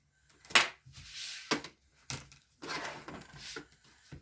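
A rotary cutter or blade slicing a sewn quilt block corner to corner on a cutting mat, heard as a few close, crunchy scraping strokes with short pauses between them and no talking.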